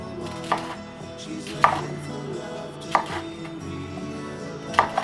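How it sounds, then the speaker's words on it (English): A knife chops broccoli on a cutting board in sparse, single firm chops, four clear strikes spaced a second or so apart, close and distinct. "first we're just going to start by chopping up our broccoli"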